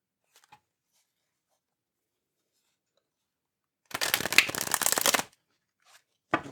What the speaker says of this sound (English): Let's do this nice shuffle here.